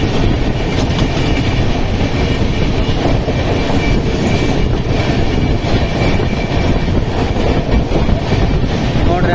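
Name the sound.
AC double decker train running at 110 km/h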